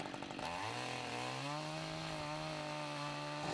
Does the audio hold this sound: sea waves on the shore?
no